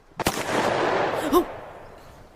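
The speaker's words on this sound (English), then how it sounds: "You hear some gunshots from outside." A sharp gunshot cracks, followed by a long rolling echo and a second fainter report, heard at a distance outdoors.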